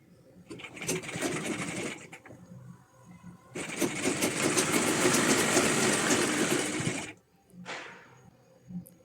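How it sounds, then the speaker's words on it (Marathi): A sewing machine stitches a seam on a readymade blouse, with a fast mechanical whir in two sustained runs split by a short pause and ending in a brief final burst. "त्यानंतर कपडा उलटवून शिलाई घ्यायची आहे त्यावर"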